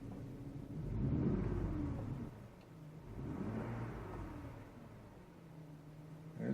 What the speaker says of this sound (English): There's a smooth running motor, especially for the mileage that's on it